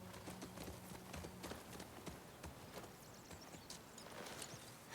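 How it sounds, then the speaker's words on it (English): Hoofbeats from Shimmer, a horse in The Last of Us Part II, in a steady clip-clop walking rhythm. The footfalls sound fairly close, sit over a low ambient rumble, and continue without pause through the whole stretch. "Shimmer is the horse."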